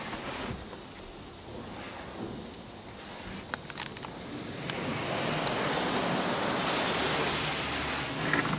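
Broad rushing spray from a Laserwash 4000 automatic car wash applying pre-soak to a car, heard from inside the vehicle as a steady hiss that swells louder partway through, with no talking.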